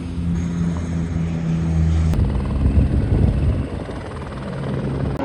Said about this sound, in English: Two helicopters taking off.